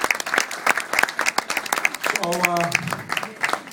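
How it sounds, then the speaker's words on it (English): Scattered, uneven clapping from a small audience at an evening celebration, heard beneath a man's speech that runs over most of it. "So I think everybody here deserves a good round of applause."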